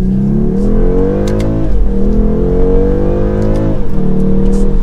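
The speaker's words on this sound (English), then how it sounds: "So let's feel out the turbo engine, still not that fast." A turbocharged BMW 230i M Sport engine revs and accelerates steadily up to 60 mph, its tone climbing, dropping briefly at a gear change, then rising again, loud and close.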